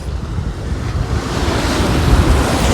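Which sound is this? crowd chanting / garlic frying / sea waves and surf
sea waves and surf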